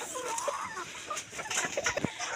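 Chickens cluck and chatter close by, with scattered short calls over a steady outdoor background.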